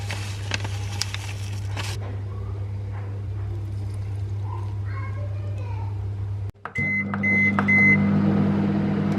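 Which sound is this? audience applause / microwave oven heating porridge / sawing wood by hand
microwave oven heating porridge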